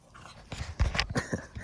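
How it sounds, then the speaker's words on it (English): Dogs pant and snuffle close by, giving several quick breathy bursts with a few small whimper-like sounds, heard alone without talk. "Look at these dogs."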